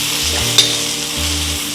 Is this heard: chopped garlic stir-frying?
yes